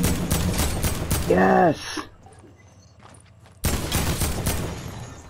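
Gunfire in a shooter video game, loud bursts over excited players shouting, then a brief lull before the shots and voices return.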